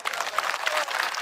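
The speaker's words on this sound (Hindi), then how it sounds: "और तालियां बजी हैं।" An audience applauds in a short, dense patter of clapping that holds steady for a moment, heard at a distance.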